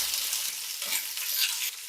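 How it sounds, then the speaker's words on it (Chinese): Meat hitting a very hot wok greased with a little oil gives a loud, steady sizzle with bright crackling that holds for about two seconds, with no voices. "再把肉放进锅里，铺开了。"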